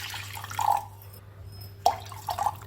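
Water poured into a small brass pot for cooking rice, heard as short liquid splashes and trickles in two brief bursts with quiet gaps between, close up.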